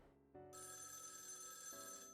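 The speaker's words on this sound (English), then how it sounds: "The black phone rings loudly." A black telephone ringing in the horror video game Spirit Hunter: Death Mark 2, a shrill continuous bell ring that starts abruptly and sustains loud and alone, with a layered tone shift near the end.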